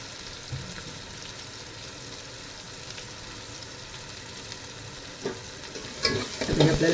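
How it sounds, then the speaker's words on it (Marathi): Onion sizzles steadily in hot oil in a pan for misal, a constant close frying hiss, with stirring clatter near the end. "आता टाकते अगोदर कांदा, कारण ते कसं ना लगेच करपलं जातं"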